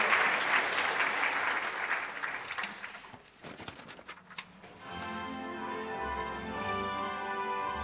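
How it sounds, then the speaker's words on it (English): Audience applause at an award ceremony for an international student EV design contest, a broad wash of clapping that fades out midway, giving way to a steady tonal background. "Please give them a round of applause again,"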